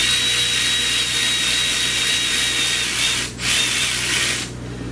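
A 1/4-inch power tool whirs loudly while tightening alternator bolts on a 2007 Saturn Outlook, a continuous high whine that cuts out briefly, restarts and then tapers off.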